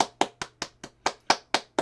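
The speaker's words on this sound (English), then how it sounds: "round of applause for Listy Rimsey" A single person claps for a quiz winner, about nine crisp, evenly spaced claps, close and alone.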